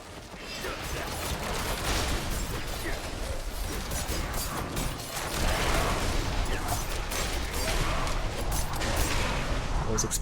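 Dense, continuous crackling explosions and impact bursts from a Diablo IV fight rattle on without pause, loud and cluttered, with occasional talk underneath.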